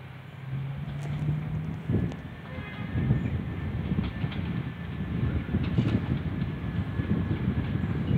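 A second PKP train pulling away at Gryfice, a steady outdoor rumble of rolling wagons with faint clicking and wind buffeting the microphone, heard from nearby without talk.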